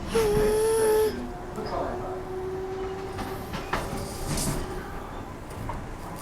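A Transperth A-Train electric train heads into the city from Cockburn, with a steady rolling rumble inside the carriage, a brief tonal whine and chime near the start, and people talking softly over the ride.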